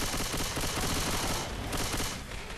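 Fireworks go off in Left 4 Dead 2 during the Diescraper Redux campaign, a dense rapid crackle of bursts rattling loudly for a couple of seconds and easing slightly at the end, with no voices over it.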